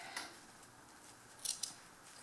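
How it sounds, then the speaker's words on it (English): Scissors snip a small hole in fabric while a tiny German hat is being made, giving a couple of quick, crisp close cuts at the end over a quiet background. "we're going to snip a little hole in this"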